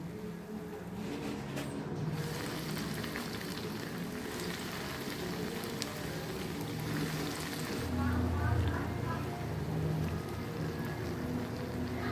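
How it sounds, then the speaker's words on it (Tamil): Slices of bread fry in oil in a pan for bread halwa, giving a continuous, dense, fairly loud sizzling hiss with no pauses. "இந்த அளவுக்கு நிறம் வர்ற அளவுக்கு நீங்கள் வறுத்து எடுத்துக்கோங்க"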